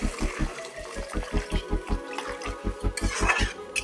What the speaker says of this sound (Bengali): এখানে আমি গরম জল দিয়ে দিলাম